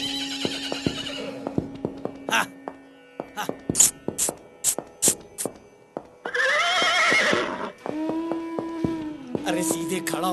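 A horse whinnies repeatedly nearby, long shrill neighs mixed with sharp clip-clop hoof clatters and snorts, loud and close in a dramatized scene.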